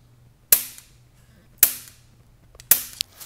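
Three sharp snapping clicks from a push-button grill igniter sparking inside a homemade potato cannon, spaced about a second apart, each a crisp close crack with a short decaying tail.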